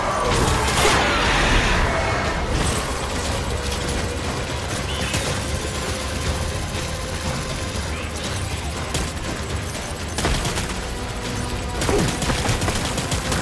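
Constant, loud gunfire fills a battlefield shootout in the video game Death Stranding, with rapid bursts and blasts layered together without pause.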